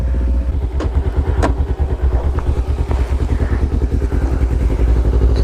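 A motorcycle engine idling close by with a steady, loping throb, picking up slightly as the rider eases on the gas to pull away, loud and unbroken throughout.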